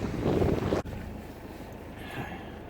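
Cold north wind buffeting a microphone outdoors on the coast, a loud rumbling gust that cuts off abruptly, followed by a softer steady breeze.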